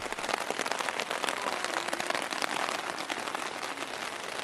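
Heavy rain pouring down on an evening during a cycling-tour trip in France, a loud, dense, unbroken hiss of drops striking surfaces nearby, steady throughout with no voices.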